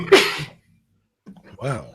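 A single sharp, breathy sneeze up close, followed after a pause by a short spoken word.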